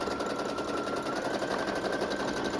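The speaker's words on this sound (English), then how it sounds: "use your embroidery foot on a zigzag stitch to lock it all in place" A sewing machine runs steadily in a zigzag stitch, fastening lace onto fabric with an embroidery foot; a continuous close, even mechanical whir and rapid patter with no pauses and no talk.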